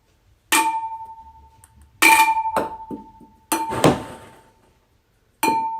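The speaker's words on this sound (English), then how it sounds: "Throwing ping pong balls into the shot glass, but they have to go in the fishbowl first" Ping pong balls bouncing off a glass fishbowl and a shot glass, four separate bright ringing clinks, each with quick rattling bounces that decay, spaced a second or two apart.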